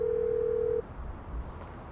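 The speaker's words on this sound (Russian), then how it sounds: "Эй, кто сменил мой рингтон?" A mobile phone ringtone in the video game GTA 5: a single steady electronic tone that holds for under a second and then cuts off, leaving low game background noise.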